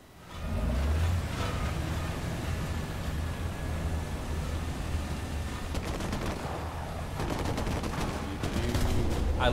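Tank in a video game firing amid a steady engine rumble, with a dense burst of sharp cracks and blasts toward the end over continuous low mechanical drone.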